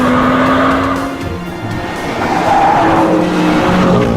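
A BMW M2 (F87) races around a track, its engine note rising and falling up close while tires squeal and skid through the corners, loud and continuous throughout.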